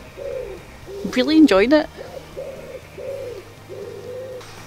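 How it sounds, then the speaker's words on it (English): Birds call outdoors in the Scotland countryside: a pigeon or dove coos in repeated soft phrases, with a brief bright chirping burst mid-clip, while someone speaks briefly over them. "So there's the birds are squawking"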